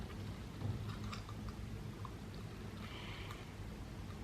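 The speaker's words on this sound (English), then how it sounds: "I'm gonna chew on this, try and get these repositioned a little bit" Chewing on new tight plastic aligner trays, soft close wet clicks and squelches repeating irregularly, faint and near, with no talking.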